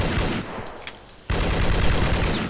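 Dense bursts of rapid semi-automatic gunfire in the video game Vietcong crackle loudly, pausing briefly mid-way before resuming in a sustained barrage.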